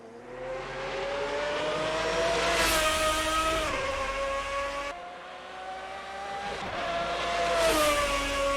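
Race car engines in an Assetto Corsa GT race at Interlagos rise in pitch under acceleration, twice climbing to a loud high-revving wail before dropping sharply with a gear change or lift, with no voices.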